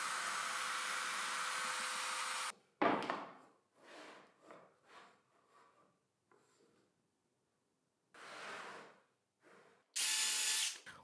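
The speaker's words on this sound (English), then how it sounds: "I'm going to drill some holes so I can screw this bar to the base." A power drill boring holes in wood to fix a bar to a router table dust hood base. There are three loud, steady whirring bursts: a long one at the start and two shorter ones near the end, with scraping and handling noises between them.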